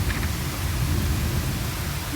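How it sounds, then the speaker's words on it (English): Torrential rainfall pouring down heavily, a dense, loud, continuous roar of rain with no breaks and no voices. "We're easily getting maybe 2 or 3 inches in less than 20 minutes."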